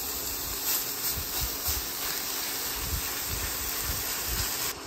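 Water droplets skittering on a hot flat top griddle give a steady loud hiss and sizzle throughout, close by, with soft low rumbles beneath and no voices.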